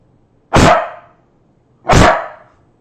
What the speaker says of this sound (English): I apologize if your eardrums are shot right now for my dog.